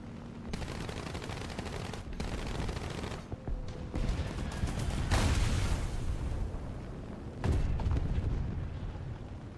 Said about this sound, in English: That was a nice little bomb.